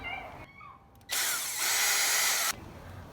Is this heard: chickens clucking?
no